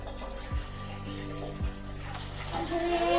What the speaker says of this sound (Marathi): तर आता मी घेत आहे पाणी